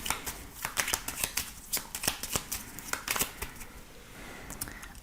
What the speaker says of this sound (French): on va faire un tirage en 13 cartes avec le Lenormand